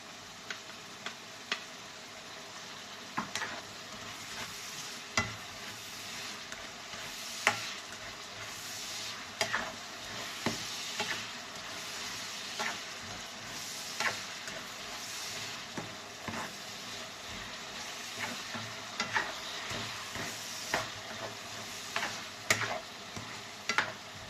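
Garlic sizzling steadily in a hot pan while being stir-fried for sitaw with pork and bacon, a continuous close frying hiss broken by frequent sharp ticks of a spatula scraping and tapping the pan throughout.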